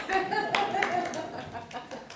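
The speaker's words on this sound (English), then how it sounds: "That's hand clapping there." Audience hand clapping at a storytelling talk, a short burst of scattered claps over the room, with voices and a chuckle mixed in.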